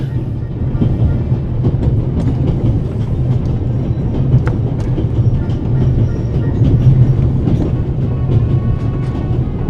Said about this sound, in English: This train began in Paris and ends in Istanbul as usual.